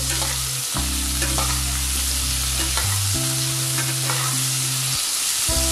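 Vegetables for khichdi frying with turmeric powder in a pan, a steady close sizzle with scraping stir strokes and clattering spatula knocks throughout, alongside a sustained low tonal hum.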